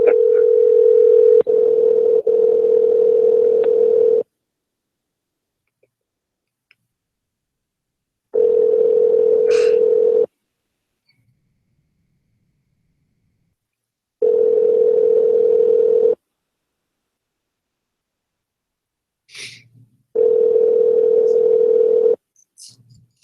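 Telephone ringback tone on an unanswered call: four long, steady, loud tone bursts of about four seconds each, separated by silent gaps, with no voices.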